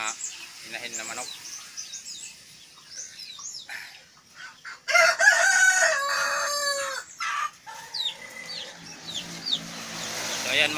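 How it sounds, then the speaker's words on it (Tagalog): Hens clucking and a rooster crowing among farm chickens, with several overlapping calls near and far; a loud crow rises midway, while someone speaks briefly. "Ito yung iba ko pang mga hinahin na manok."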